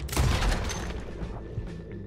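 Police gunfire in the video game Red Dead Redemption, a dense fusillade of booming shots at the start that trails off into rumbling echoes, loud and close, with no talking.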